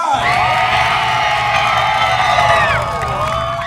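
At a Mustang car show, a crowd cheers loudly for a contestant car, with high whoops and shouts holding steady throughout before easing slightly near the end.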